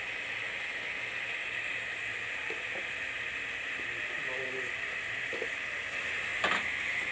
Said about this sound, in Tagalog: maingay yung superkalan ko na naman